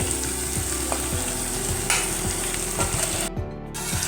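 Marinated paneer frying in a masala gravy in a pan, a steady close sizzle and bubbling with repeated soft scraping strokes of a spoon stirring, no voices.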